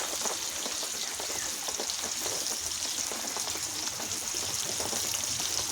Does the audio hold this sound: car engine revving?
no